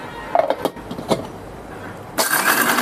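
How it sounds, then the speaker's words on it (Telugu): An electric mixer grinder grinding roasted fenugreek seeds kicks on near the end with a loud, bright whir, preceded by soft kitchen clatter. "ఇవి మిక్సీ పట్టుకుందాం మెత్తగా."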